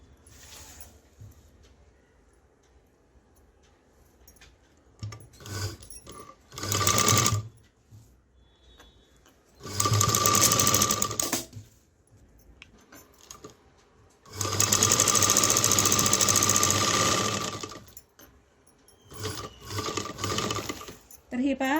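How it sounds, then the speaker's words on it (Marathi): A sewing machine stitches lace onto the neckline of a blouse, running in repeated bursts of varying length and then stopping, with quiet pauses between the runs and no speech. "तर डबल शिलाई करून घ्यायची आहे लेसला"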